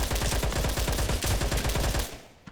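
Loud, rapid automatic gunfire rattles for about two seconds and then stops abruptly, from a gunfight in the battle royale video game CROWZ.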